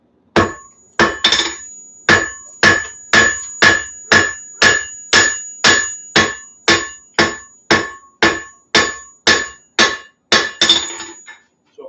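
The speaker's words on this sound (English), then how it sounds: "I'm going to hammer this down just a little bit" Steady hammer blows flatten the end of a metal coal rake, roughly twenty sharp ringing strikes at an even pace of about two per second, loud and close with no talking.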